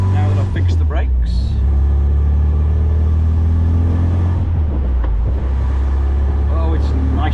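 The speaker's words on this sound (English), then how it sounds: "taking the MG out for a bit of a run, now that I've fixed the brakes" An MGB classic car with newly repaired brakes drives along a quiet street in Byford. The engine drones loudly and steadily with a low rumble, and someone speaks over it.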